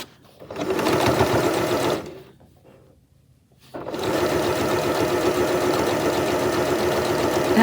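A sewing machine stitching quilt binding, running in a loud, fast, even mechanical whir for a couple of seconds, pausing briefly, then starting again and running steadily, close up.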